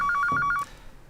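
A telephone rings with a rapid warbling electronic trill, a single burst lasting about half a second before cutting off, loud and close.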